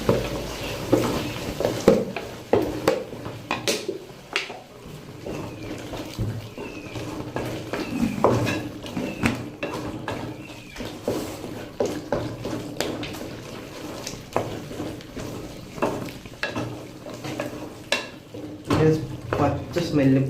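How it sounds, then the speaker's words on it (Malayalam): Stirring half a teaspoon of asafoetida powder into a tamarind-ginger mixture in a pan, with scraping and clinking of a spoon against the vessel in irregular bursts, close by. "ഞാനൊരു 1/2 ടീസ്പൂൺ കായപ്പൊടി കൂടി അതിലേക്ക് ഇട്ട് ഇനി നമ്മളെന്തൊക്കെ ഇത് നന്നായിട്ടൊന്ന് മിക്സ് ചെയ്യും"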